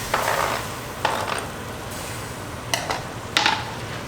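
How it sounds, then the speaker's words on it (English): Tomato and chili sauce being stirred in a pan, a continuous close sizzle broken by several spoon scrapes and knocks against the pan, no talking. "And you mix it properly."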